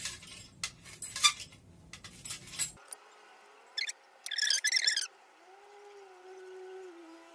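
Moringa leaves are cut on a plate with a knife, giving scattered close clinks and scrapes of metal on the plate, bursts of tapping, then quieter stretches with a faint background tone.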